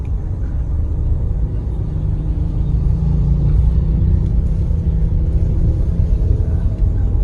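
A Mitsubishi car's engine rumbles low and steady as it takes gentle throttle on a challenging road with the transmission in L. The sound is close and continuous with a slight build in the middle, and no one speaks.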